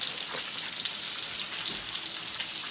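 Store-bought bacon frying crispy in a hot pan, a dense, steady crackling sizzle that stays loud and close for the whole stretch.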